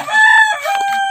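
A rooster crows loudly and close by, one full drawn-out cock-a-doodle-doo with a bright, wavering pitch.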